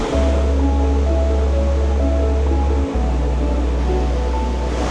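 Loud, steady roar of rushing water from the Iguazu Falls filling the whole clip, a dense continuous wash with a deep rumble underneath.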